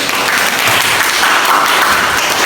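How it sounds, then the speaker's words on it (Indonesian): Classroom of students clapping for a classmate, a brief, close burst of steady applause with no talking. "tepuk tangan buat Nabi"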